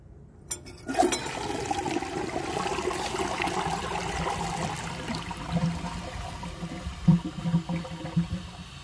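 A 1992 Universal-Rundle Atlas toilet flushes, a sudden rushing swirl of water that settles into a steady draining gush and then the trickle of the tank refilling, close and alone.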